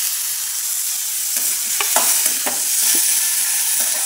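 Tomatoes with turmeric and curry leaves fry and get stirred in a pan for a village-style tomato curry: a steady close sizzle with scraping spatula strokes every second or so, no voices.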